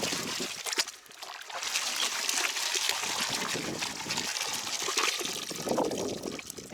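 Water and gravel swirling in a gold pan, with a close, continuous trickling and sloshing, small gritty rattles and uneven surges of liquid throughout.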